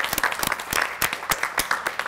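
A quiz show audience applauds a correct answer, a short burst of uneven hand claps from a modest group, close and lively, with no talk over it.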